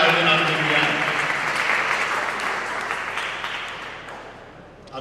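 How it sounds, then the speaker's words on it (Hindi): An audience at a school event gives a loud round of applause for the school's organizing committee and team, dense clapping that starts strong and gradually fades over five seconds. "इस विद्यालय की कार्यकारिणी और पूरी टीम के लिए एक बार जोरदार तालियां होनी चाहिए"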